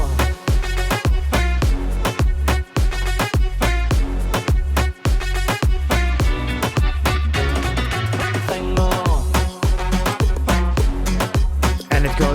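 An electronic dance drop from a remix, with hard, regular kick drums, bright synth stabs and dense layered production playing continuously and loud with no voices.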